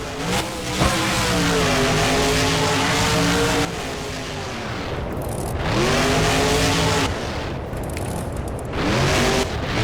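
A Hot Wheels monster truck in BeamNG Drive freestyle revs loudly and continuously, its engine pitch climbing and falling in several surging runs with brief drops between, close and dominant with no talk.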